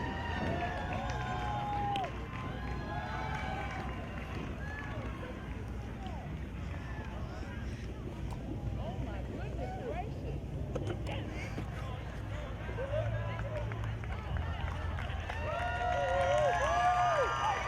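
An outdoor crowd cheers and shouts continuously at a wife carry race on a cool Fourth of July, a busy wash of voices and whoops that swells louder toward the end.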